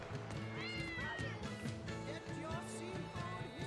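Several cats meowing in a city in the video game Tales of Berseria: a run of rising and falling mews over steady background music, with no voices.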